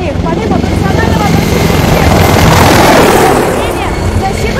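A military helicopter flies near and loud, a dense continuous rotor and turbine roar that builds to a peak midway, then eases slightly as it passes.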